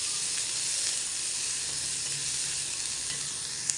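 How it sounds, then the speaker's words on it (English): Onions and soaked cashew nuts sauté in a hot pan for a lotus seed kofta curry, producing a steady, close, loud sizzle throughout with faint stirring and no voices. "Saute this till the onion is translucent."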